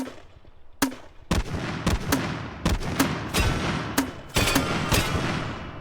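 An RG6 40mm grenade launcher fires caseless grenades, giving a series of sharp, loud reports in an irregular rhythm, about ten shots close together with short reverberant tails.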